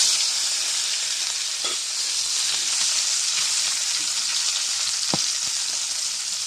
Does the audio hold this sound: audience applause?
no